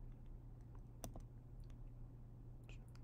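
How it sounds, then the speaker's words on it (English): Soft, quiet keystrokes on a computer keyboard, a few scattered taps and clicks over a faint steady hum, with no talk. "we're just typing in it"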